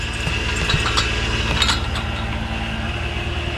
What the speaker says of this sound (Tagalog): painitin ko muna yung makina